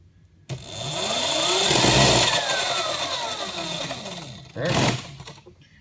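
A 1300-watt, 48-volt lithium-powered Venom electric quad spins its wheels in reverse, the motor whining up in pitch and winding back down over several seconds, loud and close, then a short second burst near the end.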